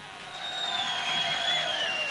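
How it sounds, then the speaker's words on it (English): An audience at a small secret Robert Plant and Butterfield Blues Band gig cheers and applauds, a rising crowd roar with a thin whistled tone riding above it. "So would you give this gentleman a large round of applause?"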